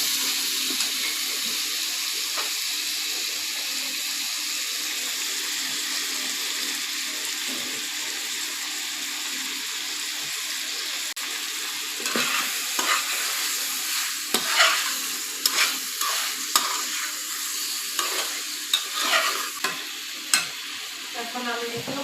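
Chicken liver with cumin fries in a little oil with tomato in a pan, a steady hiss of sizzling under repeated stirring, with scraping and clattering growing busier toward the end.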